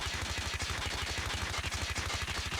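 Rapid automatic fire from a PDW-57 in a video game, with a fast even stream of shots rattling continuously, loud and close, and no pauses for the whole stretch.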